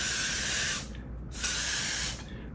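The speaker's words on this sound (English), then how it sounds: "So with the mouth atomizer, you can create a fine stream. The harder you blow, the finer the mist." A mouth atomizer sprays a fine pigment mist in two close bursts of breathy hissing, separated by a short pause.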